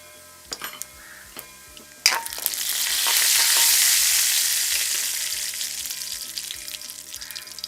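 Mustard seeds and fennel powder are dropped into hot oil: a few quiet clicks, then a sudden loud burst of crackling and sizzling that swells and slowly eases off, with faint popping throughout.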